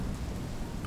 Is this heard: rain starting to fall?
yes